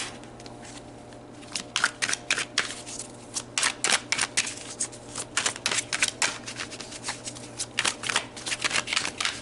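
Tarot cards shuffled by hand in a steady run of crisp, riffling flicks and slaps, close and fairly quiet with no talk.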